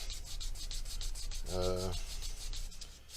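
Sandpaper rubbed back and forth over the body of a Gibson Les Paul Studio electric guitar, a steady close scratchy rasp with one brief harsher stroke midway and no talking.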